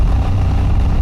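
A Royal Enfield Himalayan 411 motorcycle rides along rough Peak District roads, its close, loud engine droning steadily with a low throb throughout.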